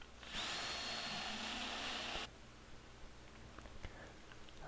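Power tool whirring steadily while tapping threads into an air manifold fitting, a loud continuous whine for about two seconds that then stops, leaving quiet workshop background with faint clicks.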